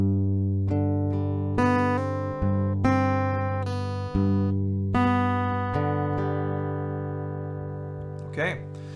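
A guitar riff played slowly, each plucked note ringing out and overlapping the next in a steady, unhurried sequence, clear and close with no talking.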